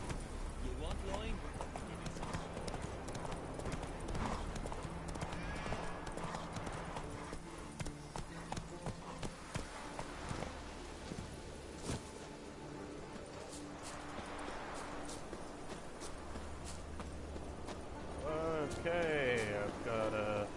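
Geralt's horse Roach trots with steady clip-clop hoofbeats in The Witcher 3, under someone talking throughout, with a brief whinny near the end.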